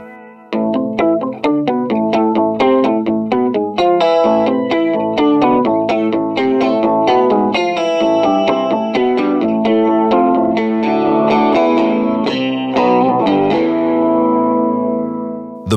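Guitar notes run through a BOSS MO-2 Multi Overtone pedal, thick harmonic effect, busy picked phrases with a swirling, detuned shimmer that rings out and fades at the end.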